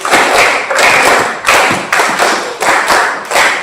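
A teacher claps his hands in a classroom, sharp loud claps falling in pairs and repeated in a steady rhythm, close by with no talk.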